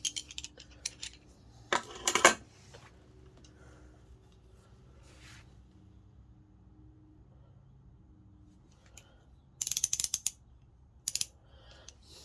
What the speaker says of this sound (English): This one's a Williams refrigeration wrench.